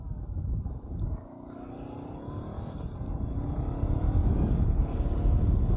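A Honda CB500X motorcycle rides along quiet back roads, its steady engine drone and wind rumble building gradually louder toward the end, with no talk.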